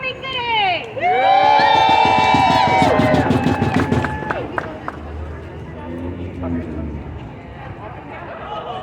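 A crowd cheers and shouts with rising voices near the start, loud and close, then fades into murmuring chatter as the noise settles.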